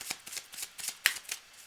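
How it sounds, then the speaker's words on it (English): Tarot cards shuffled by hand in a rapid run of soft riffling flutters and crisp snaps, with one sharper slap near the end, quiet and close with no talking. "I'm shuffling up. I'm clearing the cards"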